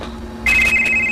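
Mobile phone ringtone from an incoming call starts suddenly and keeps going, a loud pulsing electronic tone with a steady hum underneath.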